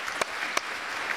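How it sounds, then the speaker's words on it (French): Audience applause at a conference interview session, a quiet wash of clapping punctuated by a couple of sharper, louder claps. "Je pense qu'on peut applaudir Stéphane."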